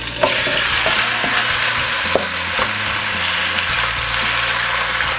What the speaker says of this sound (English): We're gonna let that pot get really hot, and then I'm gonna add the oxtail and start browning it.